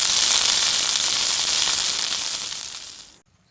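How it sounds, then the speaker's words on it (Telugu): Drumstick leaves frying in hot ghee in a pan give off a loud, steady sizzle that fades slightly before cutting off abruptly near the end. "ఇప్పుడు ఇదే ప్యాన్లో మరి కొద్దిగా నెయ్యి వేసుకొని పిడికెడు మునగాకులు వేసి ఫ్రై చేసుకోవాలి"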